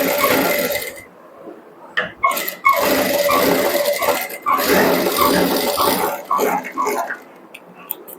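A sewing machine stitches a blouse with a fine, close double seam, running in long continuous runs with brief stops, while a voice talks over it.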